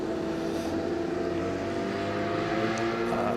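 Two Ford Mark IV race cars, numbers 45 and 59, running in line at the 2022 Le Mans Classic, a steady loud engine drone with held tones, close and continuous with no talk.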